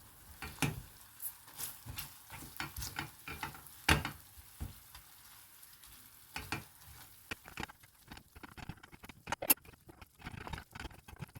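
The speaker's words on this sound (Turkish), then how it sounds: "Soğanlarımız kavrulduktan sonra üzerine 1 yemek kaşığı domates salçası ve 1 tatlı kaşığı biber salçası ekleyip yine kavurmaya devam ediyoruz." Sautéed onions crackle quietly in a pan with tomato paste and pepper paste for lentil köfte, the soft sizzle broken by irregular scraping and tapping as the mixture is stirred.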